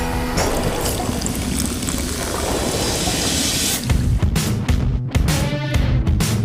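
Coke Zero poured into a cup, with a continuous fizzy splashing pour that runs for several seconds and then gives way to brief clinks and bubbling.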